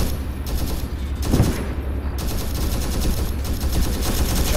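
Sustained gunfire in a military video game, shots and bursts crackling continuously at steady loudness for several seconds, with a heavier thump partway through.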